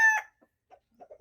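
Roosters in a container-type chicken house give a brief crow followed by a few soft, scattered clucks, near but quiet.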